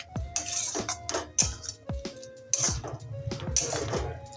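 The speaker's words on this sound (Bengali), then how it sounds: "ফুলকপিটা দিয়ে ভালো করে আরও নেড়ে চেড়ে নেব।" A spoon clinks and scrapes in a pan as cauliflower is stirred with spices for a vegetarian yogurt cauliflower dish. The metallic taps and scrapes come close and at irregular intervals, with no talking.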